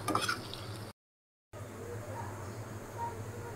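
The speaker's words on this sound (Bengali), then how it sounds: "আলুটা ভাজা হয়ে গেছে আমার" Potato pieces frying in oil in a home kitchen give off a steady, soft sizzle, briefly interrupted by a gap of silence before the sizzle resumes.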